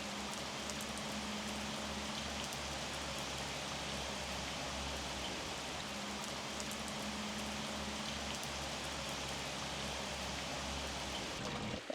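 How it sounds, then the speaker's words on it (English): Heavy rain pelting an umbrella and the ground outdoors: a dense, constant hiss and patter that stays even for the whole stretch, with a low rumble beneath and no voices. "It's really, really rainy."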